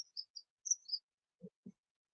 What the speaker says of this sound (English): the birds are just starting to sing their evening song